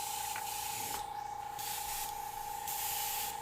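Airbrush spraying orange transparent paint while laying down a real fire effect, a steady faint hiss that swells and eases in several passes, close by and without talk.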